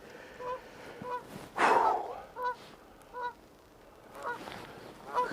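Geese out on the water honk in a run of repeated calls, one louder burst standing out among several moderate honks spread across a few seconds, with no talking over them.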